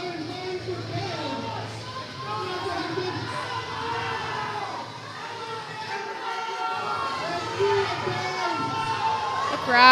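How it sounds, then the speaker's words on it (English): Crowd cheering and shouting at a USA Powerlifting Titan Barbell Open meet as a lifter attempts a 182.5 kg lift, a steady roar of voices that swells toward the end, with speech mixed in. "Crowd absolutely loves Beverly."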